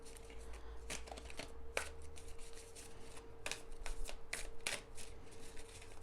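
Tarot cards shuffled repeatedly, crisp riffling bursts following one another in close succession at close range, with a faint steady hum underneath.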